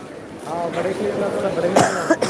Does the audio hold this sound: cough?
yes